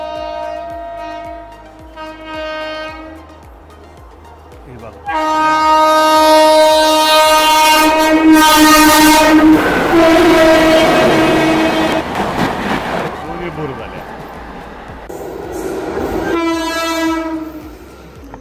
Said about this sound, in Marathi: फास्ट गाडी आली.